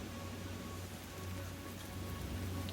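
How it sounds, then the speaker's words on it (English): Steady rain falls outdoors, a soft continuous wash of patter with a low rumble underneath, even and unbroken throughout with no voices. "it's raining outside"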